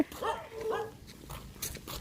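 A dog barks close by outdoors, giving a few quick barks at the start and then fainter sounds, while people talk nearby.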